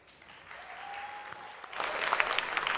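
Applause from an audience at a fireside chat event, starting faint and swelling into a louder, denser clatter of clapping by the end.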